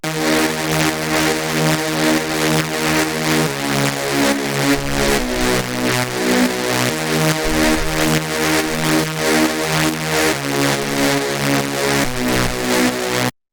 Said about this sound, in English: the first sound here is the Reese bass